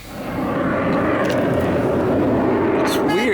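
Aircraft engines rumble steadily overhead near Miami Beach and Fort Lauderdale, a broad continuous drone with no clear direction, while a person's voice talks intermittently over it.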